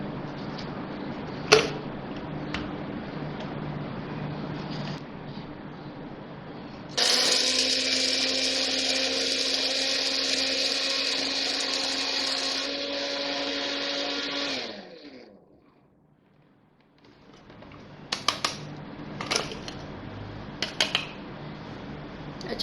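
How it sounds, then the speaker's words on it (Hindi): An electric grinder pulverizes homemade nihari spice masala, running in one loud steady whir for about eight seconds before stopping abruptly. Quieter kitchen clatter and handling sounds come before and after it. "तो पहले मैं मसाला पीसूँगी ये वाला।"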